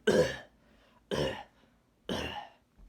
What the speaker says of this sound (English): sorry the coughs, everyone.